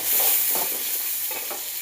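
Onion and carrot sautéing in a pan for sambar, a brief steady sizzle with soft stirring scrapes.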